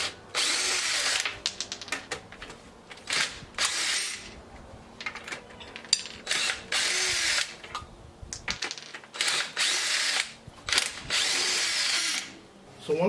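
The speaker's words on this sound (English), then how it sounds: "now we can use our drill." A power drill or impact gun removes the rear lug nuts on a raised Mercedes ML350 W164 SUV. It whirs and rattles in repeated short bursts, with metallic clinks between runs.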